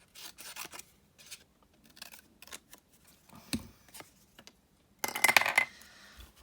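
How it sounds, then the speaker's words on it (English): Scissors snipping a strip of card, a series of short crisp cuts in quick clusters, close and fairly quiet, ending with a louder rustling handling noise. "No, I'm just going to cut that strip."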